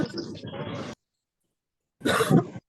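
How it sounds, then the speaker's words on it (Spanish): A burst of speech, a brief silence, then a single rough cough from a nearby person during an online law lecture. "por si me escuchan toser"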